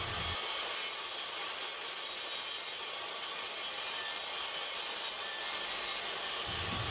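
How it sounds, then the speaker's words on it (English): Saw cutting through a wooden board, trimming a thin strip off the edge so it can be glued to another board for a simple desk; a steady, continuous rasping stroke that holds for the whole stretch, close and loud with no speech. "we're going to trim off just a 1/2 of an inch from the sides that we're going to bond together, just so that they're very straight"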